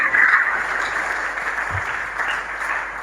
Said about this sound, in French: Acclamons encore une fois très fort pour la gloire du Seigneur.